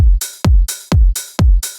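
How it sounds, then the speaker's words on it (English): A punchy progressive house drum loop repeats steadily, a low kick alternating with a bright, hissing open hi-hat that rings out briefly after each beat. "Open hi-hat"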